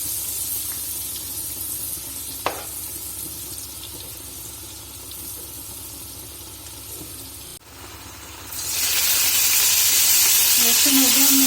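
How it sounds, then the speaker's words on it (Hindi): Chopped garlic sizzles steadily in a tablespoon of hot oil, a continuous bright frying hiss with a brief clink early on, then a louder surge of sizzling near the end as the pan gets stirred. "1 टीस्पून जो चॉप किया हुआ लहसुन है ये डाल दूंगी और इसको 1 से 2 मिनट के लिए सौते करेंगे"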